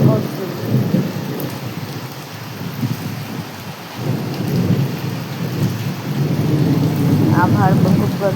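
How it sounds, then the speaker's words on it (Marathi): Heavy monsoon rain pours down steadily while thunder rumbles deep and loud in bursts, the downpour swelling toward the end. "विजा पण होत होतं बघा, तिची चमकली पडली आणि एवढ्या जोराचा असा पाऊस सुरू होता."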